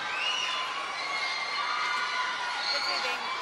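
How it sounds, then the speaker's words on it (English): Local school children yell and cheer for Team Canada at a women's curling world championship game against Japan, a dense, high-pitched crowd of shouts and whoops that carries on without a break. "Been yelling all morning, but they're even more reason to cheer."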